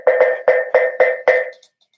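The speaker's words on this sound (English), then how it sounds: "This here is a kulintang. It's a gamelan instrument from Indonesia, and it sounds like this." Six ringing strikes on a kulintang, an Indonesian gamelan gong instrument, come in a quick, even rhythm with bright tuned tones, close and clear, the last note decaying alone.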